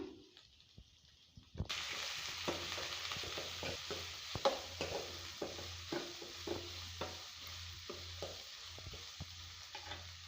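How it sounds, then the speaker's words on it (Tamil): Onions, green chilies and a sprig of curry leaves sauté in a hot pan for a roadside-style kurma, a steady sizzle broken by repeated scraping stirs after a quiet start, with no voices. "பச்சை மிளகாய் ரெண்டு கருவேப்பிலை வந்து ஒரு கொத்து சேர்த்து இதை வந்து வதக்கிக்கலாம்"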